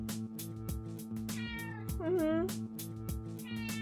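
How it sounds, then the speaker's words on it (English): Indoor cat meows several times at close range, quiet, with one longer, drawn-out meow in the middle amid soft room noise. "she is meowing at me that she wanna do something"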